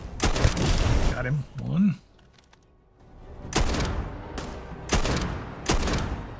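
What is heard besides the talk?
sniper rifle shots in the video game Starfield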